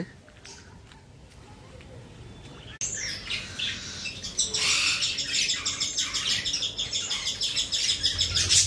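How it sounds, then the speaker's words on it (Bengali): A pet parrot makes rapid, busy chirping while feeding its chick, the twittering rising suddenly to a loud, continuous stream of squeaky calls after a quieter opening with distant birds; a person speaks partway through. "ওই যে মিঠু তার ছেলেকে বা মেয়েকে খাওয়াচ্ছে, ওদের ওই টিপিক্যাল চিকচিক চিকচিক করে শব্দটা ওরা খাওয়ার সময় করে"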